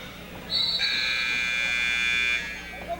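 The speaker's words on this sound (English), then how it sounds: "The buzzer sounds. That's the end of the third period of play." A loud, steady electronic buzzer ends the third period of a girls' basketball game, blaring for about two seconds with a slightly rising pitch over faint background crowd noise.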